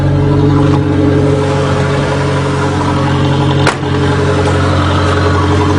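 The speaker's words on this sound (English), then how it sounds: "it's running on high idle, and that's what it sounds like" A turbocharged Dodge Aries wagon engine with a low-restriction exhaust idles fast and steady on high idle, with a deep, rumbling drone and slight whir, one brief click partway through.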